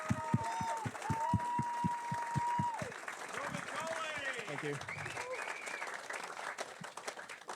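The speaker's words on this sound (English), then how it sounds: "Let's get a round of applause for you." Applause and clapping from an audience at a World Jetsprint Championship round ceremony, rhythmic claps at first fading into crowd murmur, with a voice briefly speaking over it.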